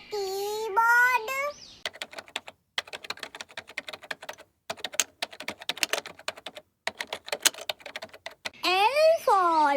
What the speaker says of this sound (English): K for keyboard.